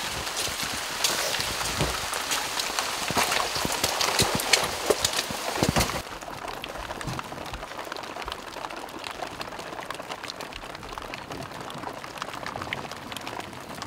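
Rain falls steadily outdoors near the front line in Avdiivka, Donbas, a dense hiss with scattered sharper drops, heavier and crackling in the first six seconds, then a softer even patter.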